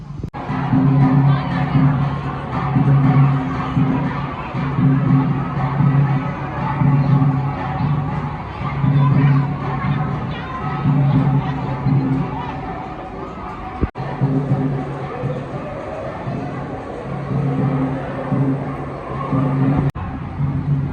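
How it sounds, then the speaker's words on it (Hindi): A dense crowd at the Kaila Maiya temple, loud continuous hubbub of many voices with rhythmic chanting or shouting swells repeating throughout, close and busy. "क्योंकि आगे बहुत भीड़ है"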